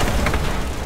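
A barrel of oil bursting in the police game The Precinct, a short, dense, low boom with a rumbling body and crackling debris that fill the whole moment at close range.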